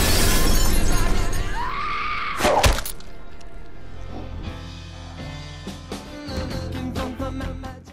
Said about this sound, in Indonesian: si psikopat gila melemparkan tubuh Kelly ke meja kaca